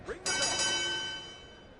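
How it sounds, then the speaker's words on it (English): A boxing-style ring bell in the WWE 2K25 wrestling video game, three quick bright clangs in a row ringing out and slowly decaying, loud and clear after a brief voice at the start. "Ring the bell."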